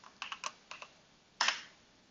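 Someone types a command on a computer keyboard: a quick run of light, close key clicks, a short pause, then one louder keystroke like the enter key.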